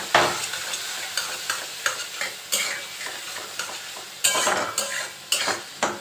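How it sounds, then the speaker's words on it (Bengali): Cabbage curry sizzles in a pan while a spoon stirs it, with repeated sharp scraping strokes over a continuous frying hiss, close and fairly loud. "এবারে ভালো করে কষাতে থাকবো।"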